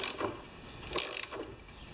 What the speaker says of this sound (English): Here, we're cutting threads now.